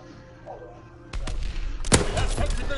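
Gunshots in Call of Duty WW2 online multiplayer: after a quiet stretch, two heavy blasts ring out close and loud, the second the strongest, each trailing into rumbling echo.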